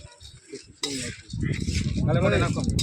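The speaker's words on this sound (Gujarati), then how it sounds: "હવે તેલમાં શેકે છે, બહુ નહીં, ધીમી આંચ પર કરે છે." Peanuts roasting in oil in a pan on low heat: a sudden metallic clatter, then a continuous close rattle and sizzle of nuts being stirred, growing steadily louder, with a voice faintly underneath.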